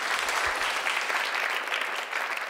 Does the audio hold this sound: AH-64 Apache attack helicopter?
no